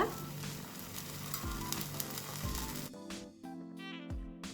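Rava dosa batter fries in oil on a hot pan, giving a bright, continuous sizzle that crackles up near the start and settles into a quieter hiss with some low rumbling underneath, heard alone without speech.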